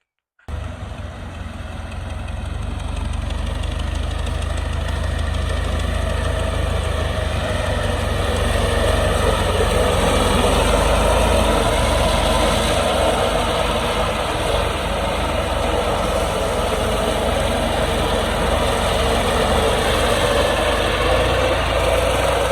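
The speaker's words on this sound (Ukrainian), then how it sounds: "зараз я піду трошки зніму біля трактора вам, як іде" A tractor engine runs continuously at a steady pace, a loud low rumble with a droning hum that holds for the whole stretch, no talk.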